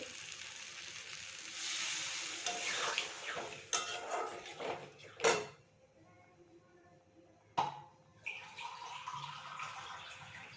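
Water poured onto sizzling fried spice masala in a kitchen pan brings a burst of hissing and bubbling. Sharp metal clanks of the pot and spoon follow, then the sizzle settles back, close up, with no talking.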